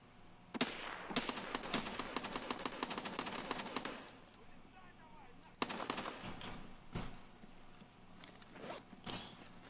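Gunfire from the video game Escape from Tarkov: a long run of rapid automatic bursts, followed by several separate, sharper single shots, loud and close against low background noise.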